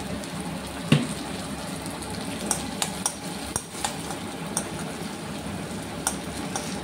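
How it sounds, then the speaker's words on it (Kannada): Ginger, dried red and green chillies and grated coconut frying in a pan for puliyogare, a busy crackling sizzle punctuated by scattered clicks of a spatula stirring against the pan. "ಅದನ್ನು ಚೆನ್ನಾಗಿ ಫ್ರೈ ಮಾಡಬೇಕು."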